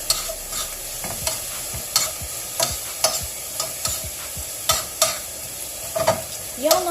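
Onions with a teaspoon of sugar cooking in a pan over medium heat, with a low sizzle broken by regular scraping strokes of a spoon, close and steady with no voices.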